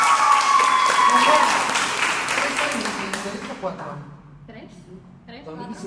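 Audience applause for a returning dancer named Adriana at a Latin Fresh dance class, a dense burst of clapping that fades after about three seconds as a voice begins talking.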